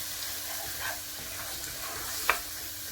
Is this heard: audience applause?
no